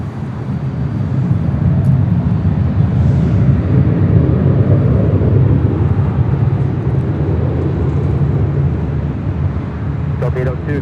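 A Delta Airlines 767-400ER jet takes off from runway 24 left at Los Angeles International Airport, a loud steady broadband engine roar that holds through the whole stretch with no talk over it.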